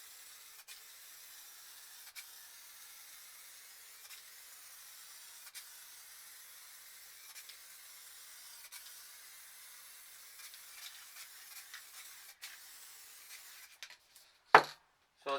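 An aerosol spray paint can lays down a clear coat on spray paint art, a long steady faint hiss with small clicks and rustles, ending in a few sharp knocks.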